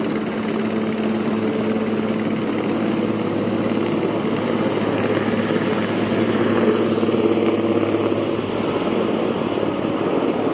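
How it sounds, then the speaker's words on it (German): A steady, loud Swiss Air Force Super Puma helicopter rotor and engine drone as it lands at a heliport fills the whole stretch, constant and close with no voices. "der Super Puma von der Schweizer Luftwaffe landet gerade auf dem Heliport"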